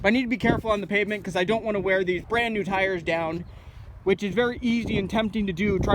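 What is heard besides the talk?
No everyday noises stand out.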